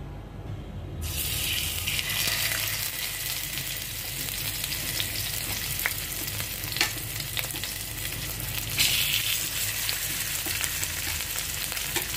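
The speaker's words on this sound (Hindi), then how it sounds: "तो अब सबसे पहले हम ये फिश पीसेस को फ्राई कर देंगे।" Fish pieces frying in hot mustard oil for a Bengali mustard fish dish give off a loud, steady sizzle and crackle that carries on unbroken for several seconds, close up and with no talking.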